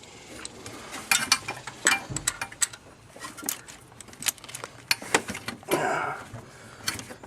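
A hand ratchet works loose the second bolt on the alternator bracket of a 1996 Chevrolet Impala SS, giving irregular clicking strokes with clanks and handling noises in between.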